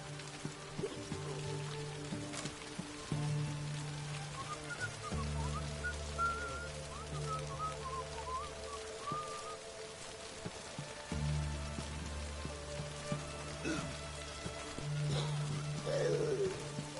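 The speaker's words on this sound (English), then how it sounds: "Looks like rain." In The Witcher 3: Hearts of Stone, rain patters steadily on surfaces while low hums and a few faint bird calls sit underneath, quiet and continuous.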